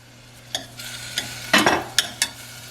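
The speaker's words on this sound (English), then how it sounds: "on a medium heat with a little butter in the pot, I'm going to put the spinach and the broccoli in, just to saute it a little bit" Spinach and broccoli sautéing in a little butter in a pot over medium heat, with a few sharp scraping and stirring knocks against the pot over a faint background hum.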